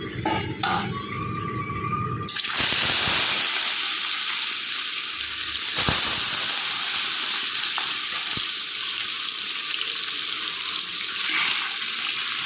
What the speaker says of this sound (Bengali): এবার মাছগুলো ভালো করে ভেজে নেব তেলের মধ্যে লাল করে একটু